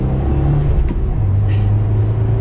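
A 2021 Subaru WRX Limited sedan accelerates in second gear through a right-hand turn, its engine droning steadily and loudly from inside the cabin with a low, even tone.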